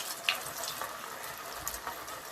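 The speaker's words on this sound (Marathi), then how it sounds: "आपले कटलेट छान असे खरपूस तळले जातील" Vegetable pea cutlets fry in hot oil over a medium flame, giving a steady soft sizzle with faint crackles and a few small pops, heard alone with no talk.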